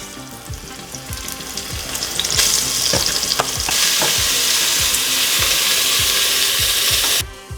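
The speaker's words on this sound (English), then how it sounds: "So I'm gonna go ahead and sear these off." Seasoned meat searing in a hot pan for Texas Red chili: a loud, rising sizzle with a rapid series of tapping, scraping turns of a utensil, the frying roar swelling and holding strongly until it cuts off.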